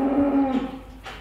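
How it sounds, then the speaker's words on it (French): A Montbéliarde cow gives a single loud, close, sustained moo that fades out, with no one talking. "Ce sont des Montbéliardes."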